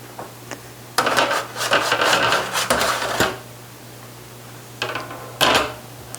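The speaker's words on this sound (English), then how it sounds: "Let's get the cake out of the oven." A cake pan holding a French pear cake is pulled from an oven with a few clattering scrapes and metallic knocks, close and moderately loud, separated by quiet pauses over a steady low hum.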